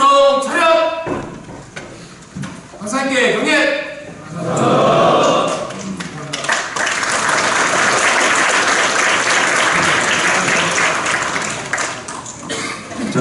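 An audience applauds after a lecture. Someone speaks first, then loud continuous clapping swells and holds steady for several seconds before fading at the end.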